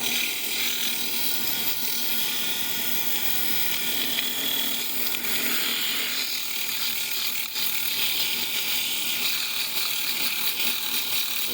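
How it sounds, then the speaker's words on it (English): A small wooden jar being hand-sanded with 80 grit sandpaper gives off a steady, close, rough scratching and rasping that continues without a break, fairly quiet and heard alone. "now I'm just running sandpaper on it, doing all the sanding."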